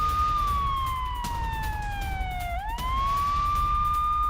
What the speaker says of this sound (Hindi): अभी सायरन बज रहे हैं